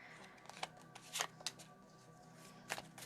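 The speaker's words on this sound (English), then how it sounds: "I'm going to shuffle up a bunch of cards" Tarot cards being shuffled by hand in short, crisp riffling bursts, close and fairly quiet, with brief pauses between the flurries.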